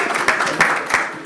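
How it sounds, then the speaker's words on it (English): A short burst of audience applause at a young professionals' workshop, with dense clapping and a few sharper claps standing out. Talk runs faintly beneath it. "Let's give them a round of applause."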